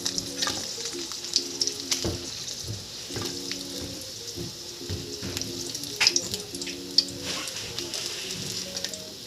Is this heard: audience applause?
no